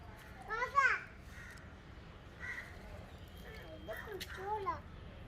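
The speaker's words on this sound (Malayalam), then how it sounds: "ആ കാക്ക കുടിച്ചോട്ടെ." A crow cawing outdoors near a yard with a bucket of water, a few hoarse caws in short bursts, moderately close, with a voice and chatter mixed in.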